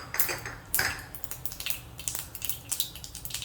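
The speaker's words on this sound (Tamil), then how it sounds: "டக்குன்னு பொரிஞ்சிருச்சு பார்த்தீங்களா?" Mustard seeds splutter in hot oil with a rapid burst of sharp, close crackles and pops that come in quick irregular clusters.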